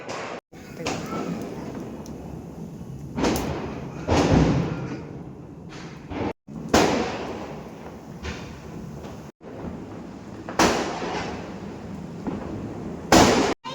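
Diwali firecrackers go off in a series of sharp bangs and thuds at irregular intervals, some near and loud, others distant, during rain, with people talking under the blasts.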